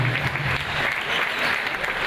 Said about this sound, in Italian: quindi un bel applauso al nostro vivaio Luca Sambe